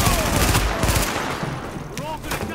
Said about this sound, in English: I'm just like running into people shooting at me all of a sudden